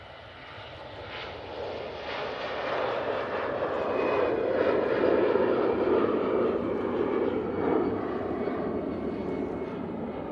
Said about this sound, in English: So next out, we've got the EasyJet to Geneva. It's an A320-200,